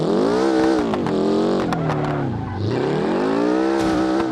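A video game car drifts and skids with a loud, continuous engine roar and wavering pitch that dips and climbs again, tire squeal mixed in, with no voices.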